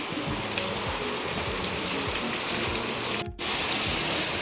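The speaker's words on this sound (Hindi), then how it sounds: "बारिश आ रही है, आप पानी भी देख सकते हैं" Steady rain falls in a continuous wash of hiss, with a low rhythmic rumble running underneath throughout.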